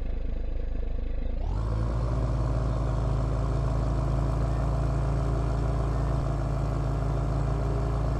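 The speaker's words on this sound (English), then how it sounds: "Nice sound to it, that kind of deep throbbing diesel engine sound." Tigercat 635D forestry skidder in Farming Simulator 17, its diesel engine starting up and then idling with a steady, deep, throbbing drone that is loud, close and continuous throughout.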